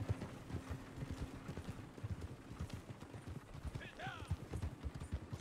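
Horse hooves clip-clopping in the video game Red Dead Redemption 2, a steady quick trot under ambient game noise with a brief whinny, fairly faint.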